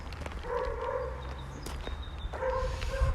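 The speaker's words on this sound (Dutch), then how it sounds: "een hond aan het bassen" A dog barks a few times in short bursts near an abandoned truck outdoors, the barks moderately loud over a rough background with faint shuffling.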